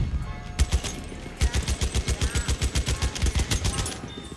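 Rapid automatic gunfire in Battlefield 1, a fast even stream of loud close shots after a couple of opening bursts, with a faint voice briefly under it.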